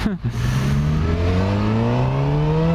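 A car pulls away and accelerates, its engine note rising steadily in pitch, loud and close, with someone talking at the start.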